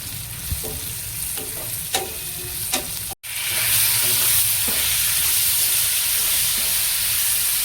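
Tomatoes tossed into oil with frying chilies, first light stirring clinks over a sizzle, then a sudden louder, steady hiss and crackle after they drop in.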